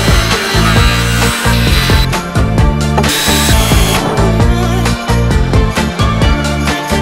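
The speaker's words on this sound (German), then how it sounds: "Wir sägen jetzt noch ein paar Bretter" A loud power saw cuts wooden boards steadily with brief pauses, a harsh, continuous whine filling the space close by.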